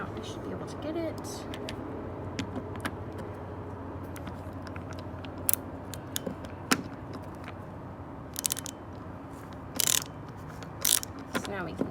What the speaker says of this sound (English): get a tool in there and unscrew this screw